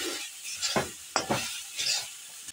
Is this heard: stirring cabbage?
yes